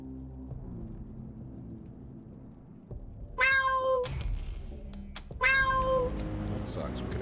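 A cat in the Wasteland 3 video game meows twice, two clear, fairly loud calls a couple of seconds apart, over a low rumbling game background.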